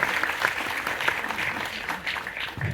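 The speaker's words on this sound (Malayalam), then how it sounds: "ആ ധൈര്യത്തിന് എനിക്ക് വേണ്ടി നിങ്ങൾ വലിയൊരു കയ്യടി കൊടുക്കണം" A crowd claps at a film trailer launch event, a short burst of brisk, dense applause with some uneven swells, heard close and continuous for under three seconds.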